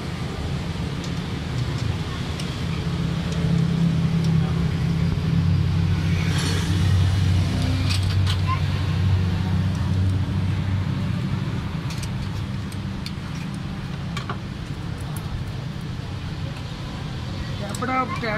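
A Suzuki Khyber car engine idles with tight tappets, giving a steady low rumble and faint ticking throughout, with someone talking over it.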